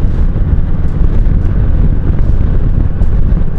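Wind turbulence roars around an LS2 OF569 open-face helmet at 55 mph, a loud, constant low buffeting rumble with no breaks.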